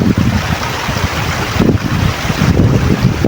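Wind blows outdoors near water, buffeting the microphone in loud, rushing gusts that swell and ease over a few seconds, with no voices heard.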